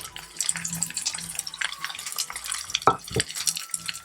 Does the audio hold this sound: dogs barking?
no